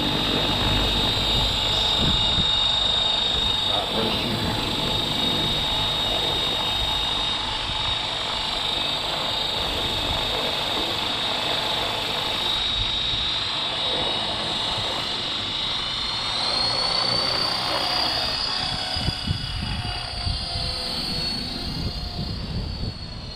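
An RC 450 model helicopter flying outdoors in wind, its high, thin rotor and motor whine sustained loudly the whole time, pitch sliding upward partway through as it maneuvers, with gusty rumble underneath.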